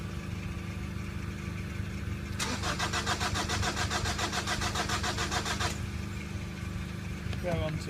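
2004 Honda Accord 2.2 i-CTDi diesel cranking without starting, the starter turning over in a steady rhythmic churn for a few seconds, close and loud above a constant background hum.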